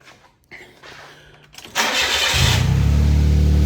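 A Suzuki Jimny's starter churns briefly before the engine catches and settles into a steady, loud idle close to the microphone, with no talk.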